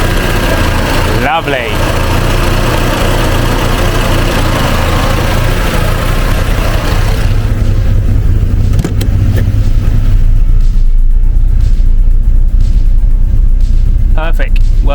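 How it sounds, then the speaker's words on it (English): A Porsche 924 idles loudly and close while its upgraded electric cooling fan kicks in, a steady engine rumble that joins a rushing whir. Someone speaks briefly over the noise. "the fan just kicked in."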